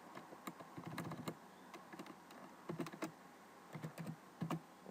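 Keys clatter on a computer keyboard as C# code is typed, in short irregular bursts of clicks with brief pauses between, close and fairly quiet, no voices.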